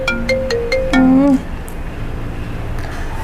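A phone ringtone chimes in a quick repeating melodic pattern for about a second and a half, loud and close, then stops, leaving quiet room noise.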